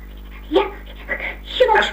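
A cartoon puppy, an Eskimo dog's son, gives short whimpering yips and barks close up, in brief bursts that sound like a voice performing the dog.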